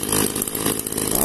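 An original, unmodified Echo 281 chainsaw runs loud and close, its two-stroke engine revving with a raspy, buzzing drone that pulses slightly throughout.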